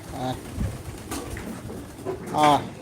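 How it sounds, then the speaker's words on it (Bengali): A pigeon coos softly during outdoor feeding, with low rolling calls set against light background noise and brief voice-like sounds. "অলরেডি একটা কবুতর আসছে"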